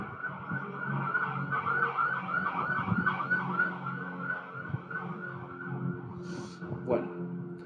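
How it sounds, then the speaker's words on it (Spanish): An ambulance siren wails in repeated rising and falling sweeps, moderately distant and steady for several seconds, with street traffic rumbling underneath and a faint higher tone near the end. "a los señores de las ambulancias les gusta mucho que les oigan"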